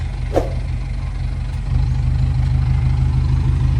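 An Isuzu pickup truck engine idles close by with a steady, low rumble through its exhaust, even and continuous, with a brief click early on.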